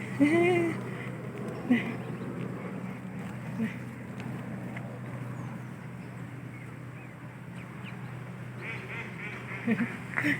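Ducks quack now and then outdoors at a town pond, mixed with softer honking calls, under a steady background hum and some nearby voices talking.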